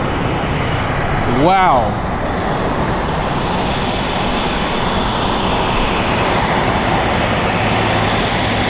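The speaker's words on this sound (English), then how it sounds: "That was a nice rocket takeoff from Southwest." A Southwest jet airliner takes off from LAX with a loud, continuous engine roar and a rising, sweeping whine as it passes. A person briefly exclaims over the noise.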